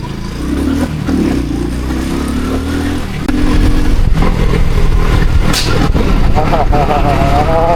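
A loud, deep exhaust from a fully modified Hero Splendor motorcycle rumbles and burbles steadily close by, growing heavier partway through, with a voice talking over it.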